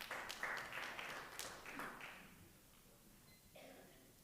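Scattered clapping from an audience at a city Board of Aldermen meeting, a loose burst of claps near the start that thins out and fades over a few seconds into quieter room sound.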